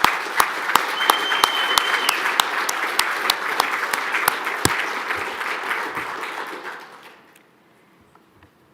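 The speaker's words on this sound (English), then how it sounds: "if you could join me in a round of applause" Audience at the PEN/Hemingway Award celebration clapping in a sustained round of applause, dense and steady with a few sharp close claps, then fading out into near silence toward the end.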